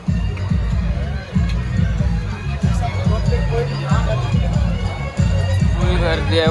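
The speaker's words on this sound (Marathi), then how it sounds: "इथं आलं आणि गर्दी बघा, नाश्त्याला लाईन लागलाय बघा" Pilgrims on a walking pilgrimage from Navi Mumbai to Karla crowd into a queue for breakfast, a loud dense babble of many voices with low rumbling throughout, close and continuous.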